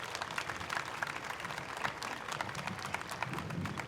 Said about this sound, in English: I request all the students to give a very big round of applause to our placement dean,